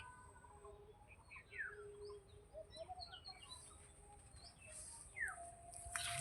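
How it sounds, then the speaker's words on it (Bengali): Soft bird chirps and tweets scattered through a quiet outdoor scene by a maize field, some calls nearer and brighter, others faint in the background. "পাখিদের কিচির মিচির আওয়াজ"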